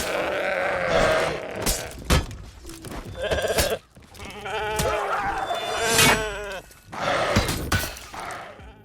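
Player-controlled sheep in the medieval combat game For Honor's April Fools event bleat over and over, wavering baas mixed with clashing and shattering battle sounds, loud and close.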